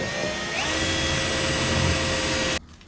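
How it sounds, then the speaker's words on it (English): A power drill whines continuously at high speed, loud and close, drilling holes in a 3D-printed car fender, then cuts off abruptly near the end. "I'm going to drill through all these"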